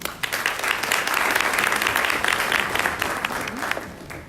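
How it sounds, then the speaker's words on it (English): A crowd claps steadily through a festive victory party held on a stormy night, the applause building quickly and holding fairly loud before tapering slightly near the end. "A big round of applause for that powerhouse."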